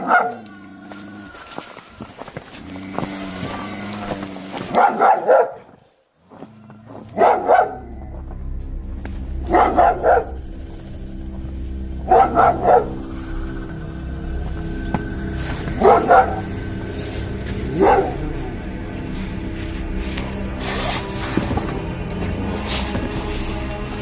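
A dog barks repeatedly in short clusters of two or three, fairly close, over a steady low hum with little talk.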